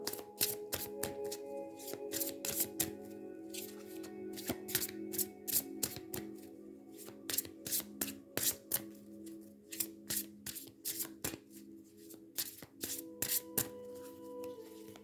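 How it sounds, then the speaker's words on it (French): Tarot cards shuffled by hand, close and fairly quiet, a rapid run of crisp riffling flicks and slaps repeating in bursts. "Je vais tirer une carte, cheminement de l'âme."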